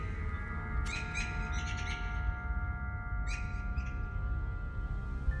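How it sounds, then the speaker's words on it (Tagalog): Night bird calls used as a story sound effect: two short bursts of chirping, a few seconds apart, over a steady low droning background. "patuloy pa rin naming naririnig yung ibon na yun."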